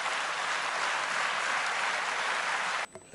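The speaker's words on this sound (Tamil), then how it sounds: "ஸோ இன்னொரு முறை அவரை கரகோஷத்தோட வரவேற்போம்." A studio audience claps loudly and evenly to welcome a guest back on stage, a thick steady roar of hands that cuts off abruptly near the end.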